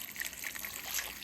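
Water poured over freshly washed cherry tomatoes in a bowl, a short, steady close trickle and splash with no talking.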